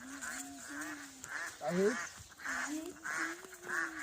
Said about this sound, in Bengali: এই দেখো হাঁস।